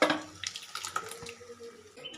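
Water splashes from a tap into a cooking pot of radish and cooked toor dal for sambar, a short, close, bright pour that fades away within about two seconds.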